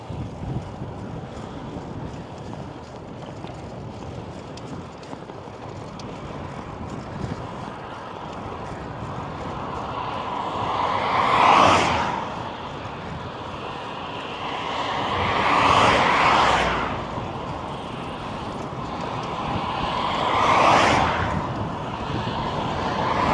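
Wind buffets an outdoor microphone on a solar-powered bike tour in Lithuania, a constant rushing roar that swells into three louder gusty blasts, close and loud throughout with no talk.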